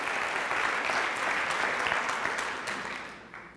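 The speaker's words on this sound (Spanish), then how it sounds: "Un fuerte aplauso para el señor Holton." A seminar audience applauds for Mr. Holton with a full, dense round of clapping from many hands, steady at first and then tapering off toward the end, with no voices over it.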